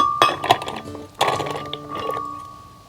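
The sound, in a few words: cashews being added to a blender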